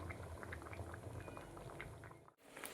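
Steady bubbling of mixed-vegetable sambar boiling in a pot on a gas stove, close and continuous, with small pops throughout and a brief dip near the end.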